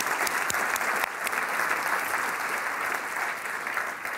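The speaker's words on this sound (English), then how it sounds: "can you give a very warm round of applause to all four of them?" Audience gives a warm round of applause, a steady, dense clapping that holds evenly throughout with little else heard.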